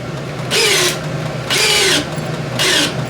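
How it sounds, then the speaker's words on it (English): A DeWalt cordless drill in high range drives 6-inch by 1/4-inch timber lock screws, whirring loudly in three separate bursts of about half a second each with short pauses between. "We're going to put 3 6-inch by 1/4 inch timber locks in high range."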